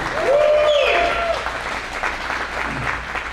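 Comedy club audience in Spokane applauds Andrew and Colton, a loud, steady wash of clapping from a crowd that fills the room and tapers slightly, with a brief voice over it near the start.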